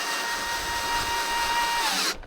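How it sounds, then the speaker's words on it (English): A steady power drill, torque turned down, whines continuously at high speed driving in a cut-off screw tip as a bit while building a gazebo, then winds down and cuts off abruptly near the end. "buy the right drill, turn down the torque, cut off the tip, use it like a drill bit."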